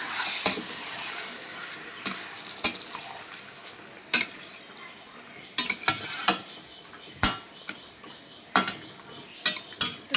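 Mustard chicken being mixed with masala and a splash of water, a spoon scraping and clacking against the pot in irregular bursts, close and fairly loud, with no one talking.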